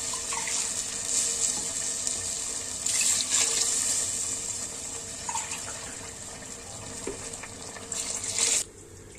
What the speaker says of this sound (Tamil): பாருங்க, தேவையான அளவு நம்ம தண்ணி ஊற்றிக்கலாம்